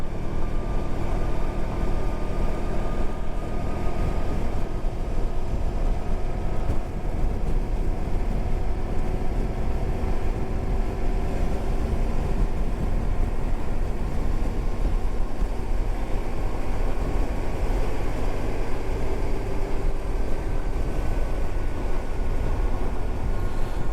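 A 1994 Honda ST1100 motorcycle drones steadily at riding speed for the whole stretch, with a loud, broad exhaust roar that may come from a holed pipe, plus wind rush, and no voices over it.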